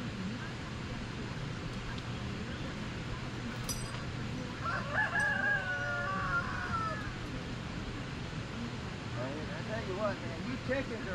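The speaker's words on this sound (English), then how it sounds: "you chickens are a lot of damn noise" Chickens cluck and a rooster crows faintly in the distance through steady outdoor background noise, with a few clucks coming near the end.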